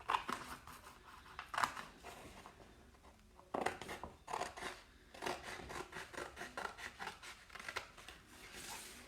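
Scissors cutting out a paper A6 card template, close and quiet, with repeated snipping and rustling paper handled between cuts, no one speaking.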